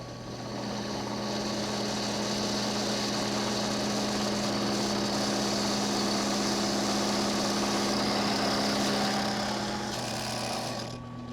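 A Ryobi 10-inch drill press with a 1/2-inch bit bores through 1/8-inch metal, giving a steady motor hum with a strong low drone and a high whine that holds evenly for about ten seconds, close and fairly loud, without talk.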